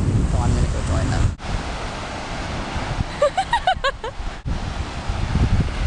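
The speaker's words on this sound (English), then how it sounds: "We are in Miami on the beach now" Ocean waves wash onto a Miami beach under strong wind buffeting the microphone, a loud continuous surf roar, briefly broken by a few faint high calls in the middle.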